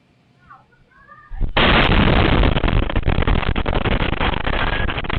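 Confiscated firecrackers awaiting disposal in Zamboanga City go off in a sudden huge blast, followed by a sustained, deafening roar of crackling bursts after faint bird chirps at the start.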